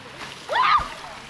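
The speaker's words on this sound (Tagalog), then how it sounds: "dito sila naliligo" People bathe in cold river water, and one sudden loud splash rises mid-clip before settling. Voices can be heard faintly in the background.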